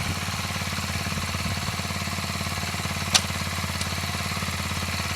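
A Sachs X Road 125 motorcycle idles and pulls away in first gear, its single-cylinder engine throbbing steadily and close by, with a brief sharp click partway through.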